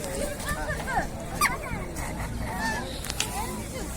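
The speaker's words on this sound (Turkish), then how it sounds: "böyük qazlar var." Geese honk repeatedly in a noisy crowd at a poultry market, their calls overlapping with voices and background chatter.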